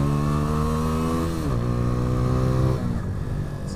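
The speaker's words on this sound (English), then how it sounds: "it does these cute like little pop things when you change down the gears. I can hear it because I'm blipping it" Motorcycle engine held at a steady idle-like drone with harmonic pitch steps as the throttle is blipped and gears change down, continuous and close, without audible pops standing out.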